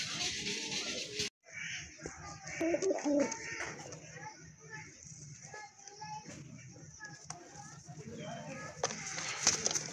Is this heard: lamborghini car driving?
no